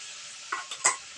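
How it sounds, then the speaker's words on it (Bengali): Koi fish stirred in a pan with coconut milk, a brief close scrape and clink of a spatula against the pan with a faint sizzle beneath, in two or three quick strokes. "একটু নাড়াচাড়া করে নেব এবার টক দই দিয়ে দিলাম"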